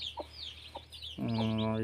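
Two soft short clucks from a broody hen, then a louder, sustained harmonic call from a chicken rising close by.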